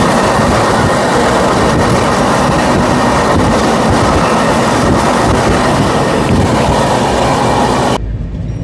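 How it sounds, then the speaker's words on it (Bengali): The Kandari Express passenger train, number 22897 on the Howrah to Digha run, rolls along the rails with a loud, continuous roar and rumble heard from on board, ending abruptly. "হাওড়া থেকে দীঘাগামী আমাদের এই কান্ডারি এক্সপ্রেস এসে পৌঁছালো তমলুকে"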